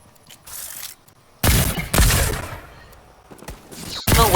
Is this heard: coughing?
no